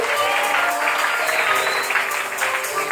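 A church congregation claps steadily during a French-language worship service, a dense, continuous wash of applause that lasts throughout and has no clear speech over it.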